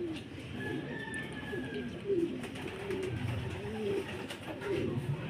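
Racing pigeons at an outdoor loft give soft, low, repeated coos, quiet and fairly close, over faint background noise.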